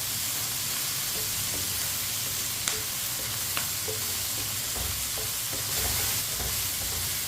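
Tomato and onion fry together in a pan for besan bhindi, a dense, steady sizzle close up with occasional light stirring clicks and no voices.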